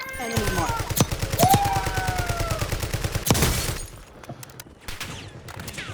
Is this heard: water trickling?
no